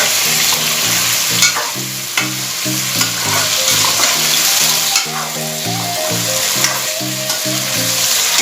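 Eggplant fries with potato in a pan for a Bihari-style bhujia, a loud close sizzle with rhythmic stirring strokes throughout.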